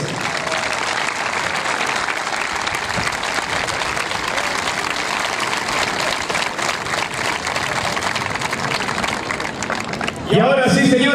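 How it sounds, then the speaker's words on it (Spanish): Dense, steady applause from the audience at the opening of the 2022 Concordia Carnival goes on for about ten seconds, loud and continuous, before a voice takes over at the end. "quiero el enorme aplauso de todos ustedes."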